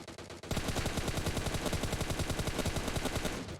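Sustained automatic gunfire in the shooter game PUBG Mobile, a rapid rhythmic burst of dozens of loud, evenly spaced shots running nearly continuously after a brief quieter lead-in.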